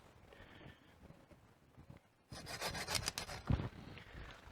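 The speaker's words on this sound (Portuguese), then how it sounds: "Então eu vou utilizar o serrotinho de poda" A small pruning saw rasps through a plant stem outdoors, starting with faint scraping and then breaking into louder, rhythmic back-and-forth strokes close by.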